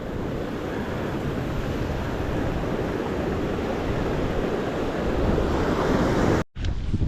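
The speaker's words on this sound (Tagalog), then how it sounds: "Grabing lakas ng hangin." Strong wind blows across a sea shore where surf breaks, making a loud, steady roar that lasts about six seconds before cutting off abruptly near the end.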